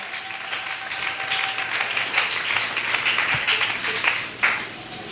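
A church congregation at a Sunday service claps and applauds steadily for several seconds, a broad, continuous wash of many hands with small swells and a few louder spikes.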